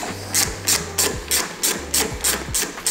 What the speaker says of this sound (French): Ensuite, on change d'embout et hop, on desserre.